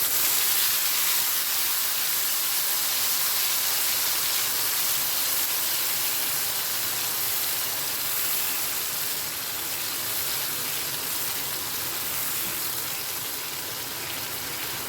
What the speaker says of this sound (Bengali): ফোড়নটা ভাজা হয়ে গেলে এবার অ্যাড করে দেবো বেটে রাখা মশলাটা